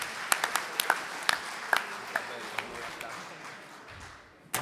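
Scattered audience handclaps on a poetry festival evening: a handful of sharp, distinct claps in the first seconds that thin out and fade, leaving a quiet hall.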